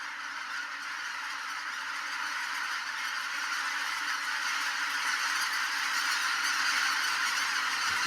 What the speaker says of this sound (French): Ça fait s'envoler toutes les oies.